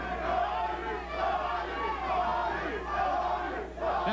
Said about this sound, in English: Now the crowd is picking up the chant of Tommy, Tommy, Tommy